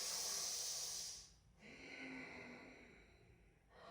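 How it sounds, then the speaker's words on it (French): Deep, audible breaths during a vinyasa yoga exercise: a long hissing exhale, then a slower inhale, close and alone with no talking. "Encore une respiration complète."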